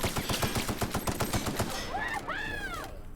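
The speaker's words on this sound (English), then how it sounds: "Use my light machine gun." A light machine gun fires in The Outer Worlds, loud and close, in a steady run of rapid evenly spaced shots. The fire stops and gives way to warbling, sweeping electronic tones.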